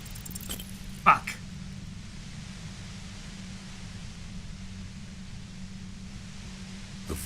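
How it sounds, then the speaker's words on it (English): Violent white noise near a compressor in the Disco Elysium video game: a steady, dense broadband hiss over a low droning hum, constant throughout with one brief click near the start. "The violent white noise becomes even more overwhelming closer to the compressor."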